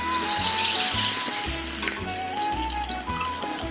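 A shrimp and scallion pie pan-fries in a pan with a steady, close sizzle and crackle, along with faint scraping or stirring noises and no talk.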